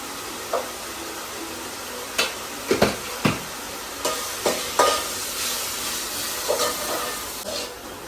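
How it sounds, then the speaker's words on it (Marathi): Masala spices fry in hot oil in a home kitchen, giving a steady hiss and sizzle. Sharp scraping knocks from stirring break in at irregular moments. "आता मस्त तेल सुटस्तोवर आपल्याला मसाल्याला जरा शिजवायचा"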